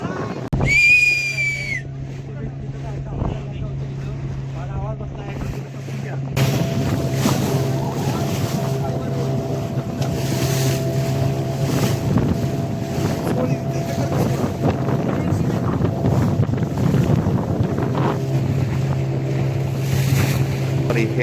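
A boat rides surging, churning sea water near Nivati lighthouse on the Konkan coast, with a steady engine drone and constant wind and water rush throughout, a brief high tone early on and a louder stretch after the first few seconds.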